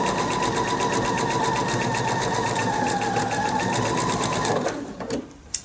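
A sewing machine stitches a patchwork quilt of squares, running as one loud, steady whir of rapid stitching for most of the clip before it stops abruptly near the end, leaving a few faint clicks.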